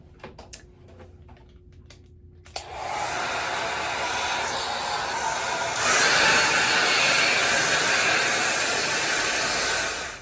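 Hair dryer blowing on freshly colored chocolate-brown hair: after a couple of seconds of faint ticking and handling, the dryer switches on with a loud, steady broadband whoosh and whine, stepping up slightly in strength midway, then cutting off at the end.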